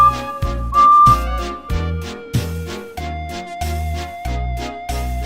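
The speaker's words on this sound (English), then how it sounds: "They started at opposite ends and whistled to each other as they passed." Steam engine whistles from a Trainz game trading calls, short bright toots rising over a steady rhythmic chuffing and heavy musical backing, fairly loud throughout.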